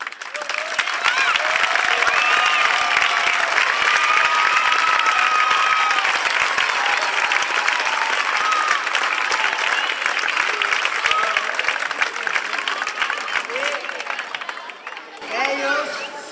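Loud, sustained audience applause and cheering for dance performers, a dense crowd clapping continuously with some voices mixed in, tapering near the end.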